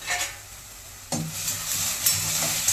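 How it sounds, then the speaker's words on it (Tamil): Sliced onions frying with salt and sugar until golden, a close, loud crackling sizzle broken by a couple of sharp stirring scrapes, no voices. "அந்த வெங்காயத்துலேருந்து உப்போட சக்கரை கொஞ்சம் சேர்த்தா நல்ல கோல்டன் கலர் கிடைக்கும்"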